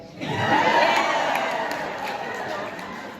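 A large crowd cheers and whoops loudly in one sustained roar lasting about three seconds, rising quickly and holding steady with no separate speaking voices.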